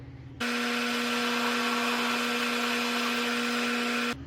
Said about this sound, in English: we're gonna go in with a 13/16 drill.